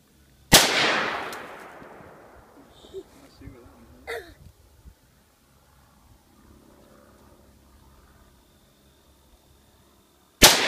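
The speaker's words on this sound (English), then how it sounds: "going to do a 3-shot group from 50 yards" An AR-15 rifle fires at an outdoor range: a loud, sharp crack with a long echoing decay, a weaker pop a few seconds later, and another sharp report at the very end, with voices in the quiet between.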